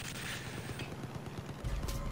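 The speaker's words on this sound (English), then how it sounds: "Sounds like a lot of gunfire." Gunfire in the video game Far Cry, a rapid crackling burst of distant shots and clattering mechanical noise with a louder thump near the end, no talk.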